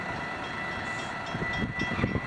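A northbound FEC freight train heading into Bowden Yard rumbles past nearby, a steady rolling roar with rhythmic wheel clatter building toward the end.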